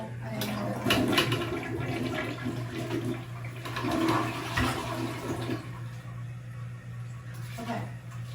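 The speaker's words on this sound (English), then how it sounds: "after that, you're going to flush." A toilet flushing after being cleaned with a scrubber, wipes and bleach gel, a steady rushing swirl of water running the full length, close by, with a steady low hum beneath.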